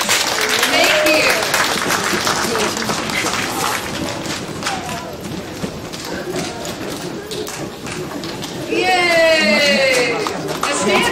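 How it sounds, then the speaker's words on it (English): Loud crowd applause and cheering from a standing ovation for deaf children's drama performers at a festival, dense and sustained throughout, with voices calling out and a louder swell near the end. "let's give them a great applause"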